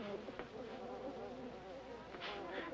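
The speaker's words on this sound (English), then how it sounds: "What kind of a bee is that?" An artificial bee from a 1978 film hums with a close, steady insect buzz, wavering slightly in pitch and sitting in a quiet room.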